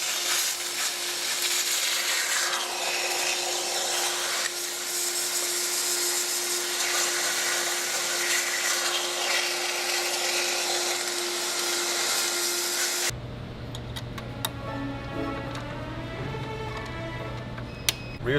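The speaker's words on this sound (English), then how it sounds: "Let's use the steam again with vacuum." A steam cleaner with vacuum hisses steadily and loudly while cleaning a car engine's intake air ports, a continuous close whoosh with a steady hum, then cuts off into quieter ticking and clatter.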